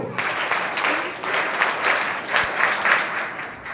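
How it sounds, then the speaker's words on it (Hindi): Applause from an audience at a school annual exam results ceremony, a steady wash of many hands clapping at moderate volume, swelling slightly toward the end. "बड़ी ताली"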